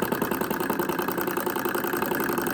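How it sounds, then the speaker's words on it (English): A small flame-heated Stirling engine runs with a fast, even mechanical chugging and rattling, close and steady throughout, with no talk. "Now as the heat goes, it turns the engine."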